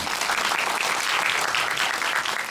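A cinema audience at a film screening Q&A claps for the director and actors, a dense, even wash of many hands applauding throughout, loud and close, with no talking.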